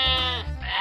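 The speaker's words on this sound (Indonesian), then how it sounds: "di sini ada hewan kambing" One goat gives a loud, close bleat with a wavering, nasal tone that dips briefly before rising again.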